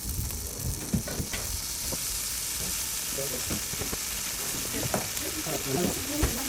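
Two tablespoons of butter sizzle in a pan for a pork sirloin roast gravy, a loud, steady, close frying hiss with light clattering pops and occasional utensil knocks throughout.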